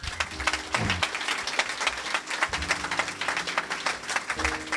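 A church congregation breaks into sustained applause to acclaim the Lord, dense clapping from many hands filling the room steadily throughout, with some voices mixed in underneath.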